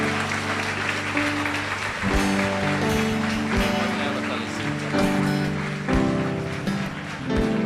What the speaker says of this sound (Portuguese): dá uma salva de palmas aí para o Senhor Jesus